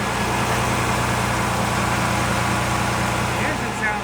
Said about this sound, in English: The engine sounds great. It's an A3 Cummins, very reliable, 330 horse